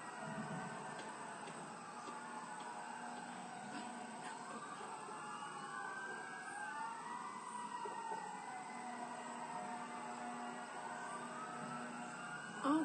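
Sirens drift in from far outside, faint and wavering, rising and falling through the whole stretch with a steady background hum beneath.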